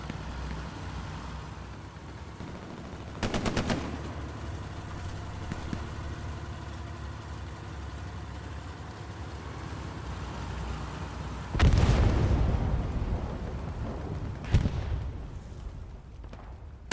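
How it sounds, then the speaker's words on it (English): Allied artillery fire and explosions in the online shooter Hell Let Loose, with a steady low rumble of battle noise and a few distinct booming impacts, including a loud, close blast near the end. "No Axis artillery, just Allied artillery."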